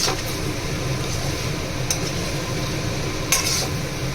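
Spice paste with garam masala and bay leaf sizzling in oil for an egg curry, a dense low frying hiss with a few sharp clinks of a spoon against the pan, no voices.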